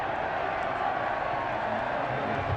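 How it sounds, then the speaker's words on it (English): Steady broadband roar from a college football playoff crowd in a stadium as Appalachian State gains field position against Illinois State, a continuous wash of cheering with no distinct peaks. "And the crowd really starting to get into it here"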